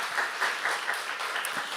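A church congregation claps steadily at a Saturday worship service, a dense, even patter of many hands heard at moderate distance and fairly soft throughout.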